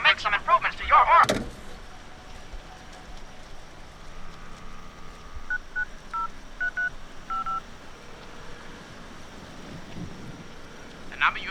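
A payphone keypad sends a short sequence of DTMF dialing tones, evenly spaced beeps in the middle of the clip over steady wind and outdoor background noise, with a brief louder burst of noise near the start.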